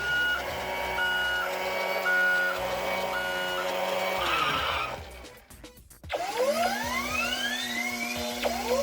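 A custom 2009 Hummer HX concept, a toy with dancing doors, gives repeated electronic reversing beeps in an even rhythm, followed by a short rattle and rising whirring, siren-like toy tones.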